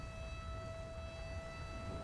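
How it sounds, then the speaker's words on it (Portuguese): A held electronic siren tone from the game GTA 5 drones on steadily with no rise or fall, sitting over low rumbling background noise. "E essa sirene de novo."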